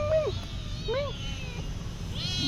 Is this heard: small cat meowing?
yes